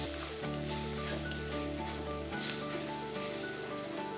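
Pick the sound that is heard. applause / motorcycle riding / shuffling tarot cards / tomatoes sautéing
tomatoes sautéing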